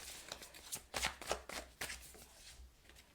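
Tarot cards are shuffled and drawn in a pick-a-card reading, giving a run of soft riffling and snapping flicks with a few sharper slaps, close and fairly quiet, with no talk over them.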